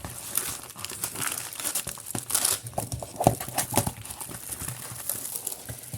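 A protective plastic pouch is unwrapped from a canvas, giving close, loud, continuous crinkling and crumpling with sharp rustling bursts.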